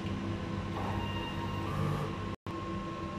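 A DT Dumaguete sublimation printer running its head clean cycle, a steady mechanical whir and hum from the machine with a faint tonal whine, close by and uninterrupted apart from a momentary cut.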